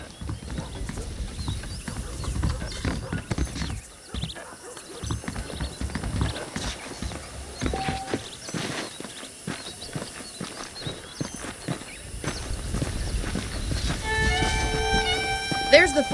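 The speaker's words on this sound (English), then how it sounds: "The horses are saddled up over here." Horse hooves clip-clop steadily in Red Dead Redemption, with a brief gap before resuming, joined by occasional whinnies, game ambience and voices talking over the walking rhythm.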